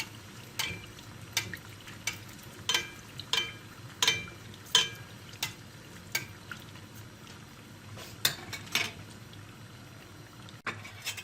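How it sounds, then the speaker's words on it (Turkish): Turkish pişi dough fries in oil with a soft, constant sizzle, punctuated by repeated sharp clicks and taps of a utensil against the pan at irregular intervals. "Diğer taraflarını da kızartıyoruz."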